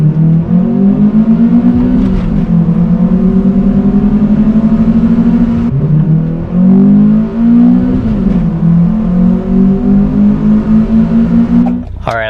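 Honda Prelude with a Tri Y header accelerating hard, engine note rising in repeated climbs through the gears with short dips at each shift, loud and close throughout.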